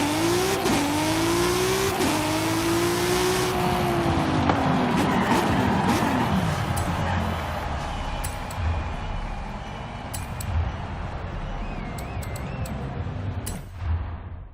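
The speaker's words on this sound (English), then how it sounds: "let's go ahead and put this car in a race and see how it does against its competitors" An Audi RS 5 drag-tuned for a Forza Horizon 5 drag race revs hard and shifts up through the gears in a rising, repeating engine whine. A brief tire squeal comes early, then the engine note fades toward a distant hum.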